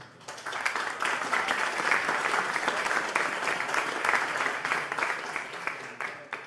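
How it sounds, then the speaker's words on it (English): Sustained applause from an audience for the staff at a poker tournament final table in a Barcelona casino, steady and full for several seconds after a brief quiet start. "we can give a big applause to all the staff involved to the tournament"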